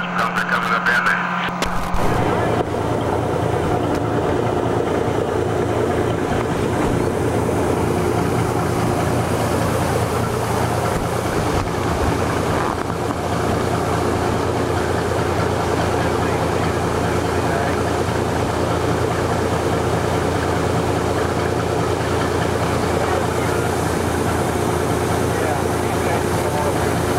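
A fire engine runs at a burning tire fire scene, giving a steady low mechanical rumble that carries on throughout after a brief burst of noise at the start, with occasional voices over it.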